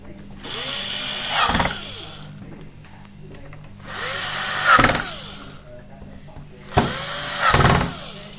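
A handheld power screwdriver whirs in three short bursts while driving screws into an HP laptop being refurbished, each run rising and settling, with talk heard between them.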